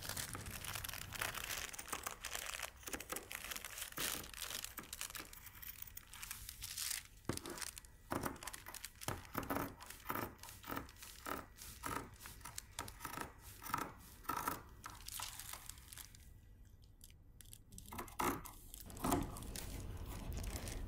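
Scissors snip through dress fabric while pieces for a raglan-sleeve dress with princess seams are cut out, giving a quiet, steady run of crisp cuts and faint rustling cloth with no voices.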